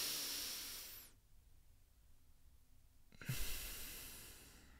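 Deep, forceful breaths in the Wim Hof breathing technique: a long rushing exhale that fades into a quiet pause, then a sharp, loud inhale, close to the microphone with no talking.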